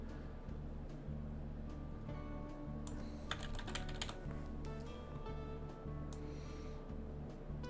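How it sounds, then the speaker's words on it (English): Rapid, light tapping of typing runs steadily throughout, close and continuous over a low background hum, with a brief burst of brighter clicks in the middle; no voices. "I hate typing on phone"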